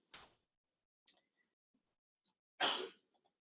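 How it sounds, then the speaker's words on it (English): A single sharp sneeze bursts out near the end after a few faint, scattered noises in an otherwise quiet room. "the person in the back sneezing."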